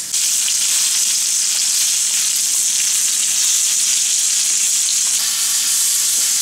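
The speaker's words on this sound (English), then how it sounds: "I'm going to take the pot roast, and I'm going to take it and put it in the frying pan," Loud, steady sizzling of a pot roast searing on all edges in a hot frying pan, a continuous bright hiss with faint crackles and no talking.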